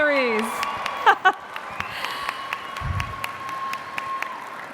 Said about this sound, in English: Huge round of applause for all of our honorees.